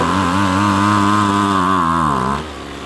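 A two-stroke string trimmer engine, running with no choke, drones loud and close with a buzzing whine that sags in pitch as it bogs down, then drops to a rougher, quieter idle.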